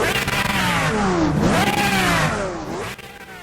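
A Pagani Zonda Revolution Barchetta in Roblox revving hard, its loud engine note climbing and falling in repeated sweeps before easing off near the end.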